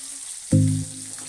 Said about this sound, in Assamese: অলপ ভাজি লওক, ভাজা হৈ লওক